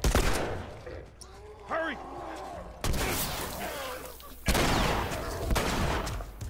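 Gunfire in The Last of Us: loud sharp shots at irregular intervals, each with a booming tail, separated by quieter stretches where a voice calls out.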